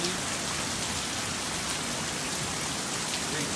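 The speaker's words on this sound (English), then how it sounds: "Look at all this hail coming down." Hail pouring down outdoors in California, a dense, steady hiss of countless small impacts on surfaces, continuous and fairly loud with no pauses.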